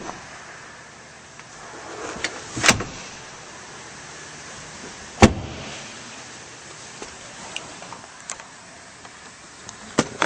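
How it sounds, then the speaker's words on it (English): Rear seats of a 2013 Chevrolet Silverado 1500 pickup being folded up inside the cab, giving two sharp latch clunks a few seconds apart and a few lighter knocks over a quiet, steady interior hiss. No one talks. "And these seats fold up."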